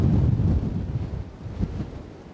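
Strong wind at night in Blackpool buffets the microphone in a loud, continuous roar with gusting swells, heard alone without talk.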